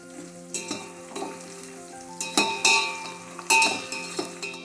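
Ingredients for a mixed vegetable sambar sauté in a pan, with a soft sizzle under repeated metallic scrapes and clinks of a ladle against the pan, coming in irregular bursts close by.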